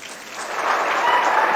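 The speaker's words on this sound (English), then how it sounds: "Another round of applause, please." Steady crowd applause at a state reception for a champion women's football team, a dense, even roar of many hands clapping that builds slightly and holds.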